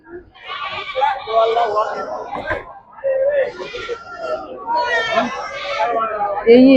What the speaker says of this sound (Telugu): ఈ నాటు మేకపోతులు